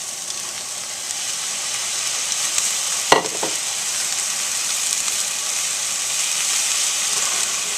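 Cauliflower fried rice with shrimp stir-frying in a pan, a steady close sizzle and hiss with one sharp clack of a utensil midway, no voices.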